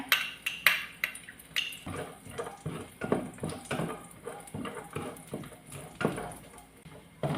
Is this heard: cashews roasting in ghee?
yes